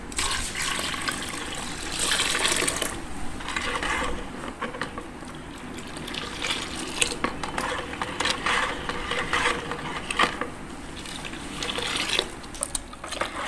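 Water is poured into a vessel of sugar-sweetened tamarind mixture while making tamarind sharbat, a steady splashing gush that continues throughout.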